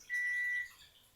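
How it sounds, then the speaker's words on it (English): A kitchen timer beeps during home cooking of potato dill soup, a single steady electronic tone held for about half a second, clear and fairly close in a quiet kitchen. "That's my timer."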